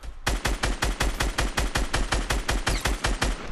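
Rapid automatic gunfire in the Fortnite battle royale game, a steady burst of about twenty evenly spaced shots, loud and close, with no talking over it.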